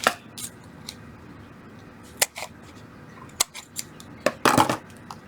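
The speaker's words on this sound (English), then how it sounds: "scissors." Sharp scissor snips cutting paper sound close by, a handful of quick crisp cuts scattered irregularly over a quiet background.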